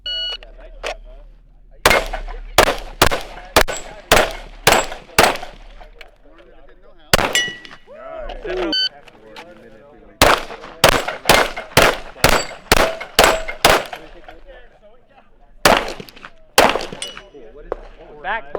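Handgun shots at a steel target while zeroing a red dot: loud, close bursts of sharp reports in quick strings, each crack ringing off steel, separated by short pauses.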